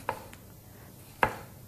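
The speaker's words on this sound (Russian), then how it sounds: "Теперь один помидор, буквально вот такой небольшой, нарезаю" A small tomato being sliced into rounds on a cutting board: two crisp knife taps against the board, spaced about a second apart, quiet and close.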